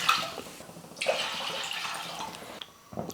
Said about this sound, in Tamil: ரசத்துக்கு தேவையான அளவுக்கு தண்ணி சேர்த்துக்கலாம்